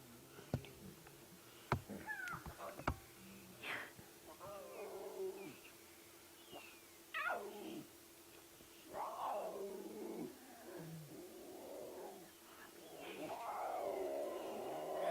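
Lion cubs on a sunrise safari in the Sabi Sand calling with soft, high mewing and yowling cries, scattered in short bursts at close range over a quiet background.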